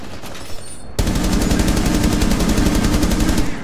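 Rapid automatic gunfire in Rainbow Six Siege bursts in after a short quiet stretch and hammers on steadily as a loud, dense stream of shots until the end.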